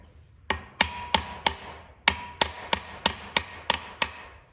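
Light hammer taps drive a steering pin into the front bolster of an International 986 tractor. Sharp metallic knocks come in two evenly paced runs of about four and seven strikes, close and clear with no talk.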